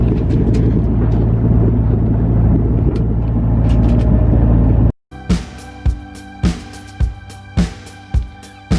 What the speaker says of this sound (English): enjoy the peace and quiet, apart from the drone of the engine